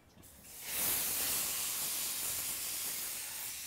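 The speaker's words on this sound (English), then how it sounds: "we're just going to put that straight on to the flat grill of the barbecue" A butterflied leg of lamb hits the flat grill of a barbecue and erupts into a loud, steady sizzle that holds evenly, close up, with no talking.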